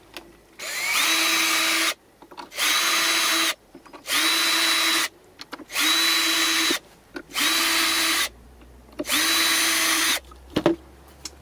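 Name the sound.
power drill drilling holes in old pallet wood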